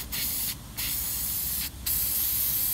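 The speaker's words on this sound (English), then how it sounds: "just get yourself a can of degreaser and just clean up the oil filter" Degreaser sprayed from an aerosol can onto the oil filter sealing surface of a Toyota Hilux engine, a steady close hiss broken by two brief pauses between bursts.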